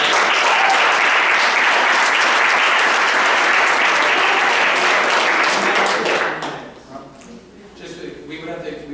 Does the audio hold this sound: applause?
yes